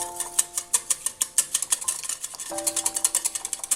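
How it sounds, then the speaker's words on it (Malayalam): A spoon whisks egg and sugar in a bowl, rapid rhythmic clinking and scraping strokes repeating close up and steady, with a faint tonal hum in the background. "ഇനി ഇതിലേക്ക് വേണ്ടത് ഒരു മുട്ട, 1 ടേബിൾ സ്പൂൺ പഞ്ചസാര. ഇനി ഇത് നന്നായിട്ടൊന്ന് അടിച്ചെടുക്കണം."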